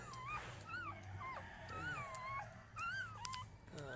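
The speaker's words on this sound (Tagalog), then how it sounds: "Marami na kaming tuta." Several newborn puppies whimper and squeak close by in a home, with high, wavering cries that overlap and repeat over a low, steady background hum.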